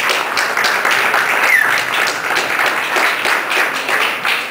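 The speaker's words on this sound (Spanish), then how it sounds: "quienes agradecemos con un fuerte aplauso" Audience applause at a press conference for the Xpilots Adrenaline Tour 2012, a steady, dense round of clapping lasting throughout, fairly loud and close with no talk over it.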